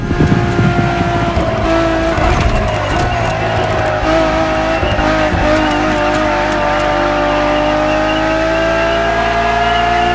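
Ferrari Enzo supercar in the racing game The Crew Motorfest, its engine screaming loud and close while revving through rising and falling tones, with tire squeal and skidding mixed in under a sustained high-pitched howl.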